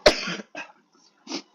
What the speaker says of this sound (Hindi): यार खांसी हो गया